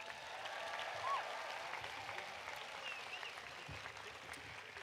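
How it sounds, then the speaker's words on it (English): Audience applause at a high school graduation ceremony for the Class of 2025, a steady broad wash of many hands clapping at moderate distance throughout, without talk. "Let's give them a warm round of applause"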